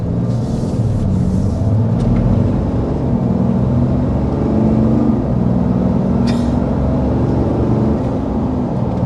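2025 RAM 2500 Heavy Duty turbo diesel truck accelerating, a steady loud low engine roar heard from inside with a faint rising whine and road noise, no voices.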